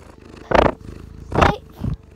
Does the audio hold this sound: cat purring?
yes